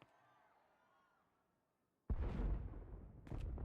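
In the video game Star Wars: The Old Republic, after a quiet stretch with faint tones, a heavy explosion booms and rumbles, followed by a second blast near the end.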